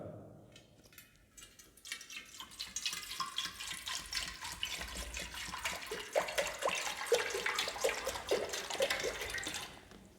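Water pours steadily into a container for about ten seconds, a bright rushing splash that starts thin and grows fuller and louder, the pitch shifting as the vessel fills, with no talking over it.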